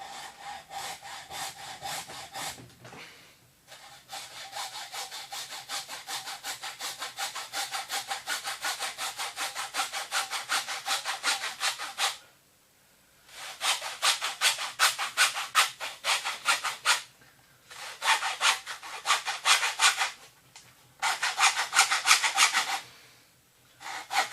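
Hand saw cutting off the excess end of a homemade tuna tube, rough hacking strokes in steady rhythm, loud and close, with brief pauses between bursts.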